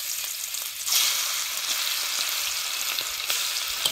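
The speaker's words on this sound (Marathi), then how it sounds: "चिकन आहे नाही सगळं कढईत टाकून घेतलंय. आता लगेच त्याला हलवायचं नाही." Continuous crackling sizzle of chicken frying in hot oil in a kadai, close and steady, with occasional louder pops and no talking.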